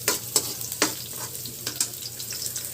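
Garlic, onion and ginger sautéing together in a pan for chicken wings in coconut milk, a soft continuous sizzle broken by several sharp scrapes of a spoon stirring, close and without talking.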